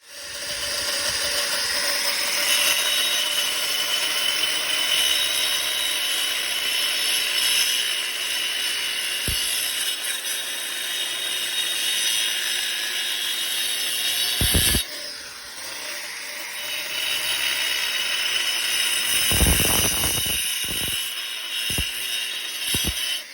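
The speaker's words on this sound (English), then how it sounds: "we used the grinder to cut a new groove into that corner of the foundation and asphalt" Grinder cutting a groove into a concrete foundation outdoors, a steady high-pitched whining hiss that runs on continuously, with a brief dip midway and a few sharp knocks near the end.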